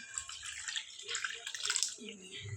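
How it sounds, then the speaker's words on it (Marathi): Water is poured into a pot of salted potatoes in a home kitchen, making a close, splashing gush that swells and shifts in pitch, with a quieter bubbling underneath. "तर याच्यात ओतूया पाणी"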